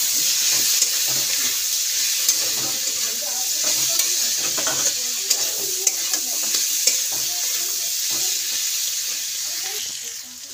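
Vegetables with spring onion fry in a pan for pasta, a steady loud sizzle with frequent stirring scrapes and clicks running continuously, close by.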